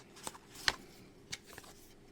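Paperwork and a VIP card from a Vivo X Fold 5 box are handled, a few short papery flicks and rustles spaced apart, soft and close, with no talk.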